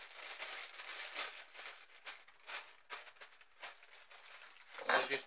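A plastic bag crinkles and rustles in short, soft bursts as it is pressed onto spray paint to texture rocks, ending in a louder crunch.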